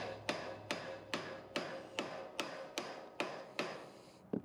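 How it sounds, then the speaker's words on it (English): Repeated hammer blows flatten a protruding metal piece while upgrading a tow rig, about ten sharp ringing strikes in a steady rhythm, close and clear with no talking. "we're gonna try to hammer this flat a little bit because this piece is sticking out"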